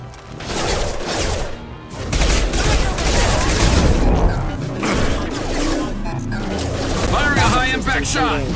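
Gunfire in the video game Mass Effect 2: loud, dense bursts of shots and booming impacts layered with game music and character voices over several seconds.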